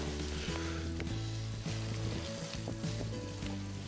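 Chopped garlic and small prawns sizzle in a pan for Spanish arroz negro from Alicante, a continuous close frying hiss with low tonal hum beneath, no talk.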